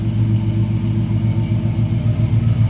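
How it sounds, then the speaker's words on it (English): A small-block Chevy 350 V8 in a 1970 Chevrolet C10 pickup rumbles steadily at idle, a deep, loud, throbbing burble with a slight lope and no voices. "Nice little rumble out of that small block Chevy"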